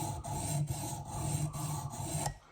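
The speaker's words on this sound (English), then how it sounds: "Now let's file this thing away. All right, now this is 150 grit." A knife blade is drawn across a coarse 150 grit sharpening stone in a continuous loud, gritty rasp, with steady repeated strokes marked by brief breaks, close up and without speech.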